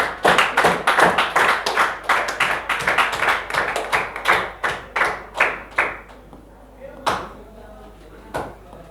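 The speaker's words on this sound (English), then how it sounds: "Give a big round of applause, everybody." Students in a Grade 10 classroom presentation clap at close range, loud, sharp and irregular at first, then thinning into a few separate claps that trail off near the end.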